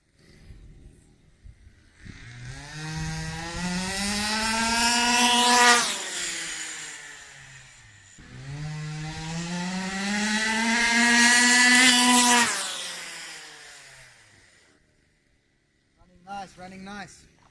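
A rebuilt Rovan Baja 45cc RC car engine runs, revving up in two long high-pitched whining sweeps that climb and then drop back, followed by a brief sputter near the end; close and loud.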